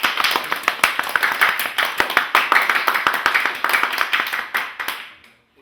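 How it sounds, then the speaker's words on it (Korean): A church congregation claps together in a fast, crowded patter of many hands during a Korean Sunday worship service, continuing steadily before tapering off and ending in quiet. "바닥에 박수 한번."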